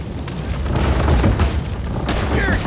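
Gunfire and explosions in the Western video game Red Dead Redemption 2, a dense, loud barrage of booming blasts and shots running continuously through the whole stretch.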